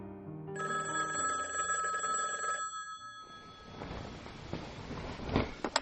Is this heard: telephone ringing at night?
yes